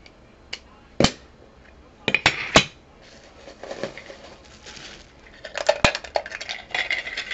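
A soda bottle opened with a bottle opener gives a few sharp metallic clicks and clinks, a brief hissy stretch, then more clinks, close and fairly quiet.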